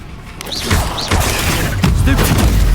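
A Confringo blasting spell in the video game Hogwarts Legacy, loud booming explosions and crashing impacts layered over dense combat noise during an arena battle, close and continuous.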